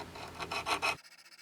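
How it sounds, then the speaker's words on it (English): A hand file rasps across a 24k gold ring in quick, close strokes, about four or five rhythmic scrapes, then stops abruptly into near silence. "I got some filing to do here, because these are not gonna mate well"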